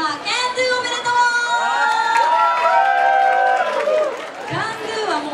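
A crowd cheers and applauds at a hip-hop dance contest winner announcement, loud and sustained, with excited shouts and high voices rising over the clapping throughout.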